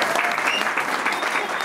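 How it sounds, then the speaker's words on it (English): Dense, steady applause from a crowd, loud and sustained for the whole moment. "Give him a round of applause."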